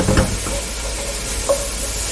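Diced butternut squash and apple cook in melted butter in a pan, giving a soft, steady sizzle with a brief stirring scrape near the start. No one talks.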